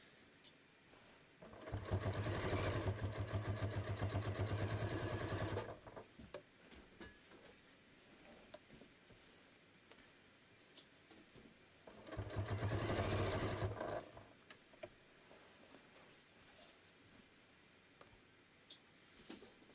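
A sewing machine stitches fabric at a 3.5 stitch length in two steady runs of rapid, even whirring clatter, the first longer, separated by quiet handling noises.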